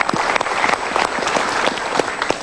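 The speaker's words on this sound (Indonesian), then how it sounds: "Kita berikan tepuk tangan lagi" Audience applause breaks out at a motivational talk show taping, dense steady clapping from a studio crowd, fairly close and sustained for the whole stretch.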